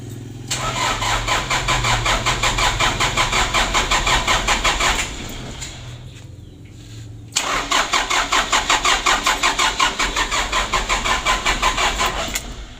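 A 2016 Hino Dutro 130 HD truck engine cranks on its starter without catching. There are two long bursts of rapid, rhythmic, loud cranking close by, separated by a short pause.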